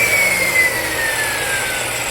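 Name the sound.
Ryobi chop saw running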